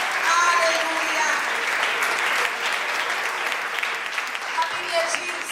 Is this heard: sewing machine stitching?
no